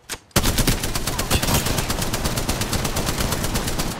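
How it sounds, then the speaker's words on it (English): Rapid automatic gunfire in Apex Legends erupts after a brief pause, a dense, loud stream of shots continuing without a break. "Taking fire."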